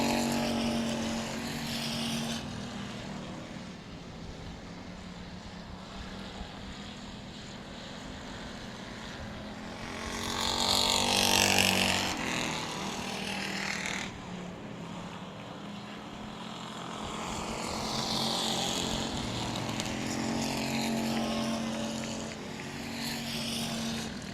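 Race cars lapping at South Texas Speedway, a continuous engine drone from the field with a louder car swelling past near the middle and another rising toward the end, no voices.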